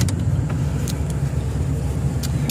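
A 1979 Buick Regal V8 coupe pulls over, a steady low engine rumble with road noise heard from inside the car and a few faint clicks on top.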